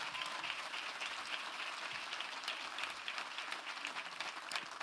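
Church congregation clapping in applause during a sermon, a dense, even patter of many hands with occasional crisp individual claps, heard fairly softly.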